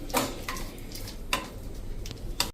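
A spoon scrapes and clinks against a pot while stirring a homemade cracked-heel remedy of Vaseline and ghee with the gas switched off; a few sparse, light taps and scrapes, close and fairly quiet.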